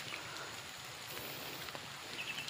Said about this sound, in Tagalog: Ulan na dito kagri sa ating farm.